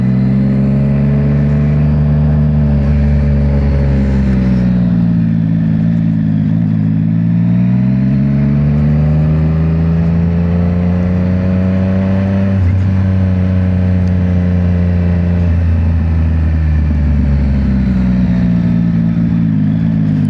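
A Yamaha motorcycle engine hums loudly and steadily while riding, its pitch rising and falling with several gentle throttle swells and no talking.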